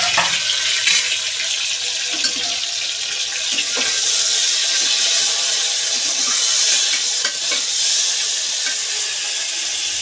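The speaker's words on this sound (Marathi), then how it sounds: "आता याच्यामध्ये टोमॅटो टाकायचे." Chopped tomatoes frying in a pan of oil for biryani, a constant bright hiss and sizzle with occasional stirring scrapes and clinks, loud and close for the whole stretch, no voices.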